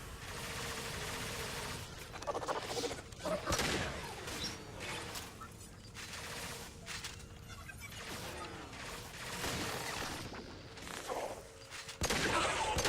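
Rapid bursts of gunfire from a techie's pistol in Mass Effect 2 crackle through a chaotic firefight, repeated volleys mixed with mechanical clatter and impacts, moderately loud throughout.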